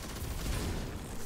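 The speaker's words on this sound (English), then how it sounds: "I have to reload" A weapon reload in the video game Destiny 2, a short burst of mechanical clicks and ratcheting over a dense, noisy game mix with distant gunfire.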